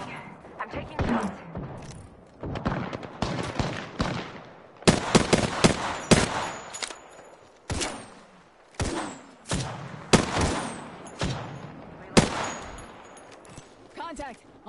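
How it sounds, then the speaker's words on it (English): Rapid bursts of gunfire ring out in the Apex Legends video game, with loud, repeated volleys and single shots separated by short pauses, and voices heard in between. "Taking fire"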